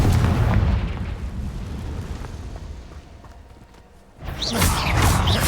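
A Confringo blasting spell goes off in Hogwarts Legacy, a loud rumbling blast that fades over a few seconds before a second heavy burst of booming and crackling.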